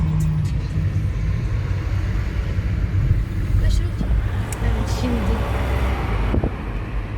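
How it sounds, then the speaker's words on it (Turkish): Heavy road traffic with cars passing, heard as a dense, steady roadway rumble from a car driving through busy streets, with people talking over it throughout. "Trafik bayağı bir yoğun ya."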